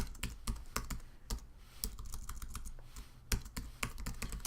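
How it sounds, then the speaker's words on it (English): Close, quick typing on a computer keyboard while entering a search into a field, with bursts of key clicks and short pauses, heard alone without voices. "the first thing I always do is I type in the publication name."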